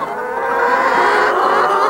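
Dense chicken clucking and squawking from a crowded flock in a chicken coop, steady and loud throughout with a constant barnyard din.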